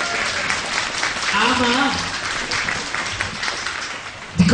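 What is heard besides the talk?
audience applause at knights' festival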